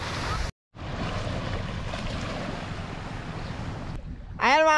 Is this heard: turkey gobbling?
no